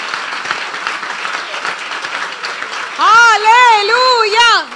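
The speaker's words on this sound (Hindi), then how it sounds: "यीशु के जलाल के लिए जोरदार तालियां बजाएं।" A church congregation at an Apostolic sermon claps loudly through the first three seconds, then a sung or chanted voice rises over the continuing applause.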